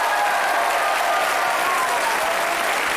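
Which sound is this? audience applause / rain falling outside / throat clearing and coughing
audience applause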